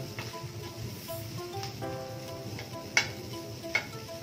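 Grated coconut filling for traditional steamed modak being stirred in a pan, a soft continuous scraping and shuffling with faint sizzle, plus two sharp utensil clicks near the end; no talking.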